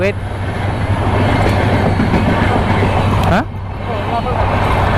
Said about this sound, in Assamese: চৌক এইফালে ট্ৰেইন আহি আছে, ৰখি আছোঁ ধুনীয়াকৈ ট্ৰেইনৰ কাৰণে।